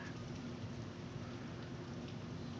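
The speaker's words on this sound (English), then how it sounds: "Why is it raining over here?" Steady rain falls, an even, close hiss that holds at a constant level from start to finish with no other sounds.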